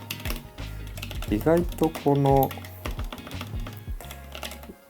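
Typing on a tiny pocket-sized self-built mechanical keyboard, with steady clicks and taps running close by under a talking voice and some background music.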